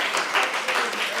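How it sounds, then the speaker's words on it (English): An audience gives a brief, dense burst of applause, a steady wash of many hands clapping at once. "Big round of applause"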